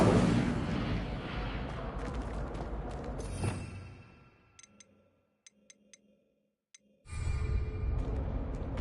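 Spell effects in a Hogwarts video game, including Incendio: a loud, dense blast of crackling, roaring noise that fades into near silence broken by a few faint ticks, then another burst of rushing sound returns.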